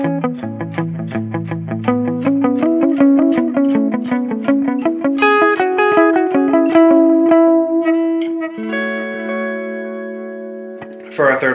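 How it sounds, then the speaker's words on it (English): An electric guitar through a Line 6 HX Stomp plays a rhythmic figure with a dotted delay mixed high, echoed repeats falling between notes and building a pulsing pattern, ending with sustained chords. "it has the delay higher in the mix so that we can do more of a dotted sound"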